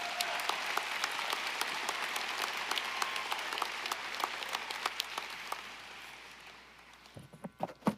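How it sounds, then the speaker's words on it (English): A university commencement crowd applauds the graduates: a broad wash of clapping from a large audience that gradually thins and fades, ending in a few scattered claps and soft knocks. "How about another round of applause for the graduates?"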